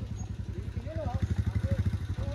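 Motorcycles set off ahead along a rural village track: a nearby engine chugs in quick, even pulses while people talk over it.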